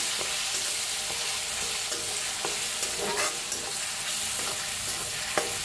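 Oil crackles and sizzles around a chopped tomato frying with red chilli powder in a tempering, a bright, steady hiss broken by occasional scraping stirs of a spoon in the pan.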